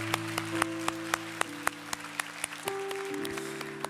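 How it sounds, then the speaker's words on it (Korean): An Easter church congregation offers faint, evenly spaced claps of praise, the rhythmic hand claps sounding over sustained keyboard or organ chords in the worship hall. "우리 하나님께 감사와 영광의 박수 올려드리도록 하겠습니다."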